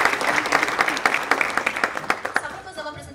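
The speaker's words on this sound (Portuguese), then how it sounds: "Por favor, palmas a ele." An audience at a leadership summit bursts into lively applause as a speaker is called to the stage, many hands clapping at once, then the clapping thins out and fades.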